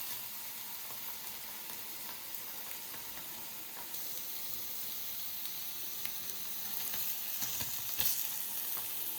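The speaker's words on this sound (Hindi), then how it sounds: "पनीर ग्रिल होना स्टार्ट हो गया है।" Paneer grilling in a pan, crackling with a soft, steady sizzle that grows slightly louder toward the end, with no one speaking.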